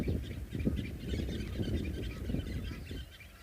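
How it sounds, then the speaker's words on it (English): Faint, scattered bird calls and honks over a low windy rumble at a dam on a South African safari, several voices calling irregularly in the distance. "Listening to the birds"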